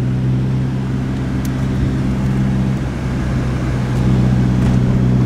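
Very loud, steady low exhaust drone from a Nissan 240SX fitted with blast pipes, close up and continuous with slight swells, heard alone.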